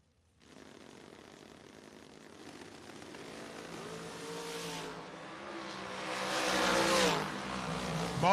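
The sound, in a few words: Overkill dragster racing down the drag strip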